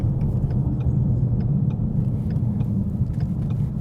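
A 2015-2017 Mustang GT with a Mishimoto race axle-back exhaust and 4.5-inch black tips cruises in sixth gear under 2,000 RPM, giving a steady, deep, even rumble with no drone.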